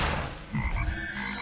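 Frog croaking from the Eternal card video game, a few low guttural croaks layered over game background sounds, fairly quiet and with no talking.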